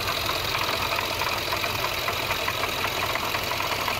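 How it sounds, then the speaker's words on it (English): A steady Jaguar AJ V6 supercharged engine drone with a faint rhythmic ticking from a worn supercharger coupler running through it, continuous and fairly loud, cutting off abruptly at the end. "The supercharged models could also experience a worn coupler,"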